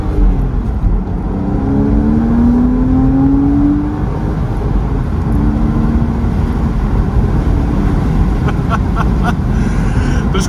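A Mercedes engine revs steadily and loudly from inside the car, a continuous full-bodied drone whose pitch slowly rises and then settles, with a few faint clicks near the end and no talking.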